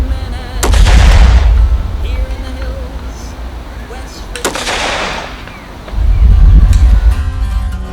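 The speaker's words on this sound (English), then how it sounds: "I hear they're bombing us now." Two heavy explosions boom a few seconds apart, followed by a deep rumble, with faint voices underneath.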